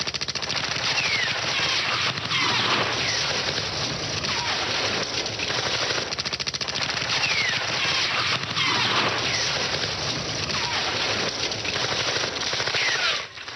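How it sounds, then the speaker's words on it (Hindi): Dense, continuous bursts of automatic gunfire in a jungle rattle on and on, with layered overlapping shots creating a steady, noisy barrage. "जवाब में पेड़ों की आड़ में छिपे दुश्मन ने भी गोलियां दागनी शुरू की।"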